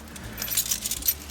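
Car keys jangling in several quick metallic bursts, bright and close, over a faint low background hum with no talk.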